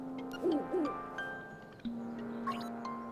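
The owl in Link's Awakening gives two short synthesized hoots in quick succession, clear and near, followed by sustained electronic game tones.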